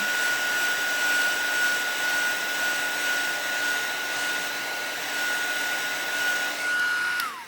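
A heat tool blows steadily while drying ink spray stains on a papercraft bird die cut, producing a loud, constant whirring hiss with a high whine that drops away as it switches off at the end.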